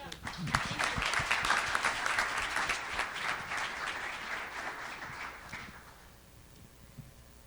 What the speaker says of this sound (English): Let's give one more round of applause for Carter.